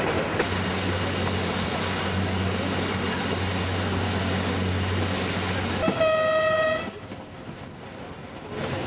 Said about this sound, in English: On the train again and heading back to Cusco.